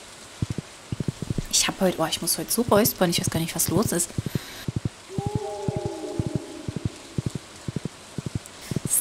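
Rhythmic horse hooves clip-clop in the video game Stardew Valley, a steady series of sharp hoof taps running throughout, briefly accompanied by a short tonal game sound, while someone talks over the first half.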